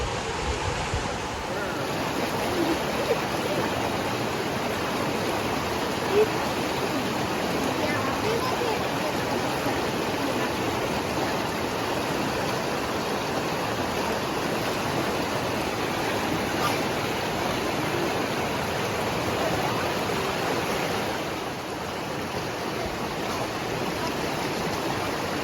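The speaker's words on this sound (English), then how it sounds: "this is where it crosses the creek. Of course, there's a lot of water." A creek in the Ouachita Mountains flows fast and full at a wading crossing, giving a steady, even rush of water that continues unbroken and close throughout.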